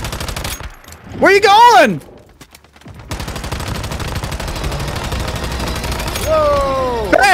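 Rapid, continuous turret gunfire in the game Once Human rattles loudly for several seconds, broken by a pause, while excited voices shout over it.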